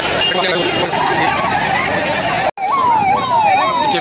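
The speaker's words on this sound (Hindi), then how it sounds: "फिर एक एम्बुलेंस गुजर रही है" An ambulance siren wails loudly and close in a traffic jam, rising and falling in a steady sweep after a brief cut, with vehicle noise and people talking around it.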